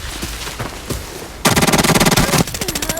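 Rapid bursts of automatic gunfire in the game Arena Breakout, first scattered shots then a loud sustained volley, followed by a shorter burst as a game-like sound effect.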